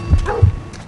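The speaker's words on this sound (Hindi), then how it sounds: "चल भाग कुत्ते नू, बंद हो जा तू बस" A dog in the Metel Horror Escape video game lets out two quick, close barks in under a second.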